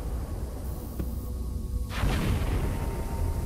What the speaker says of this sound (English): Yeah, it was the dynamite, okay.